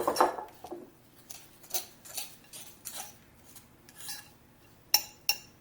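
A spoon clinks and scrapes in a bowl while pecan crumb topping is mixed for a sweet potato souffle, making irregular taps and scrapes with a few sharper clinks near the end.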